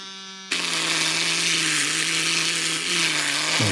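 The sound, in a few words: electric nail drill with sanding cylinder at full speed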